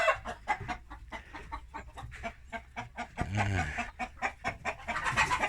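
Brooding hens sitting on eggs cluck close by in a rapid, repeated series of short calls, with a louder warbling call in the middle.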